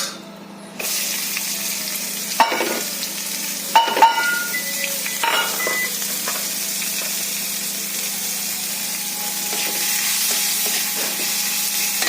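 Onions fry in a little oil in a pan with bay leaf and cumin powder, a steady close sizzle running throughout, broken by a few sharp clicks and scrapes of stirring.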